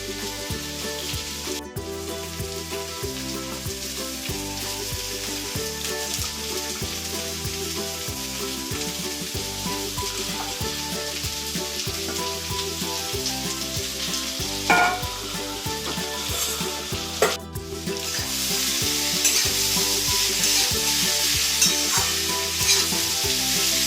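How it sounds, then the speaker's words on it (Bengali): Sweet potatoes fry in a pan for payesh with a loud, steady sizzle and stirring scrapes, growing brighter and louder in the last few seconds; a faint musical backing runs underneath. "দেখুন আলুগুলো ভাজা হয়ে গেছে"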